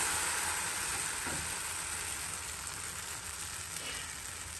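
Thin pancake batter sizzling in a greased frying pan, a steady bright crackling hiss that holds close and even throughout with no talk.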